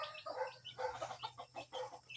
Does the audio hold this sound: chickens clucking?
yes